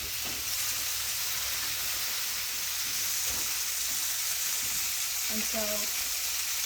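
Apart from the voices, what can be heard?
bacon frying in a pan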